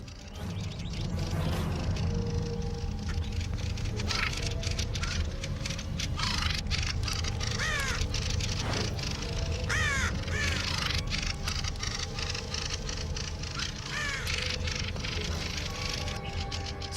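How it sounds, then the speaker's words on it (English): Birds squawk and caw harshly while mobbing a raven, with repeated overlapping rasping calls, loud and close, against a steady background. "One of the birds squawks angrily and threatens the intruder."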